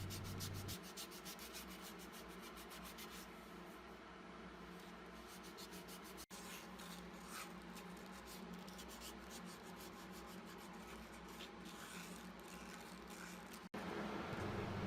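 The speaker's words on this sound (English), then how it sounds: "A little bit of hand sanding is usually in order to get around all those edges and corners nicely." Steady hand sanding of a red zebrawood cutting board, working around its edges and corners: a continuous dry rubbing scrape with even strokes, close and fairly loud, running alone with two brief breaks.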